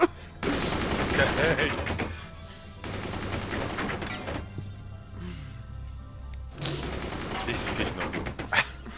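Machine guns firing in the Forts multiplayer fort-building game, dense bursts of rapid gunfire in three long volleys separated by short lulls, with a voice speaking briefly.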